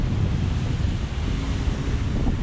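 Motor-driven park fountain jets at Ibirapuera Park, São Paulo, roar steadily and loudly, a dense continuous spray with wind buffeting the microphone.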